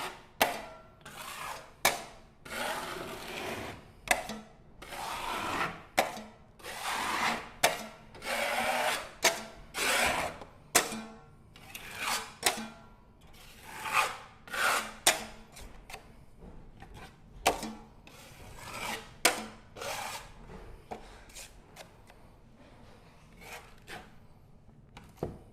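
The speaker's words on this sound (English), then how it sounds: "Okay, so now I'm just going to wipe all that off. Make sure I don't have any big ridges." A knife wipes drywall compound across a patch in a series of repeated rasping scrapes, each stroke close and distinct, with brief pauses between passes.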